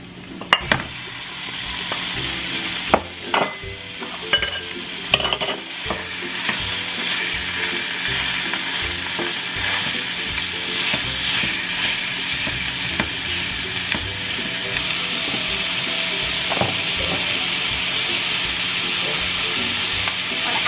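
Pork browning in a hot pan for a Filipino ginataan lanka dish, a steady loud sizzle with bursts of stirring and clattering early on, continuing unbroken and close throughout.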